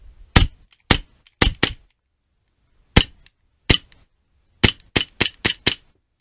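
A Tanfoglio Witness 1911 CO2 blowback BB pistol fires a string of sharp, close shots, first in uneven singles and pairs with pauses, then a quick run of five or six, each crack snapping off into near silence.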